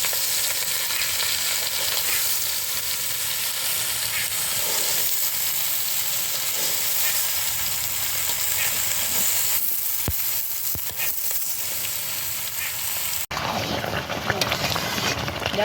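Sugar cooking with very sour mango in a small frying pan, a steady loud sizzle and bubbling hiss throughout, with occasional scraping stir clicks and a brief sharper burst of sizzling near the end.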